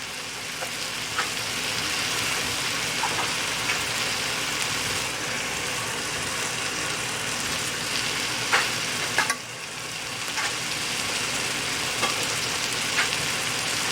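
Chicken fries in a pan as ground dry spices are added. A steady, busy sizzle runs throughout, with a few clinks and scrapes of stirring, close and alone.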